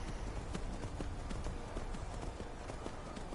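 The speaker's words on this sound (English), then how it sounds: "look, a free horse." Horse hooves clip-clop steadily in the video game Skyrim, a quick regular beat of soft thuds under a dense, constant wash of game background noise, faint and fairly low in level.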